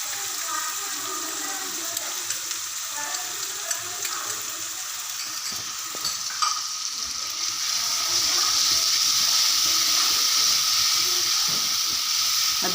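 Spices and green chillies sizzle and hiss in hot oil for moong dal, a steady frying crackle that grows louder and brighter toward the end, with no talking.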